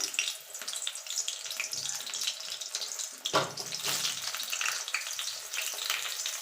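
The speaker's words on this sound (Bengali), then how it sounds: "তেলটা গরম হয়ে গেছে, বেগুনগুলো দিয়ে দেবো" Brinjal slices frying in hot oil in a pan, giving a steady, close crackling sizzle throughout, with a brief thump and louder burst partway through as more pieces go in.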